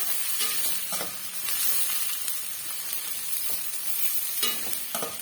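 Cashews and onion fry in a pan for carrot rice, giving a continuous sizzling hiss with repeated spatula scrapes and soft crackles at an even, moderate level.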